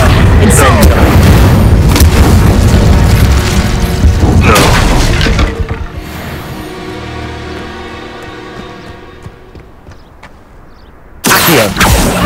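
Fire spell blasts in the video game Hogwarts Legacy, loud booming bursts with crackling impacts that roll into a decaying rumble, then a sharp new blast at the end, with a voice shouting over the action.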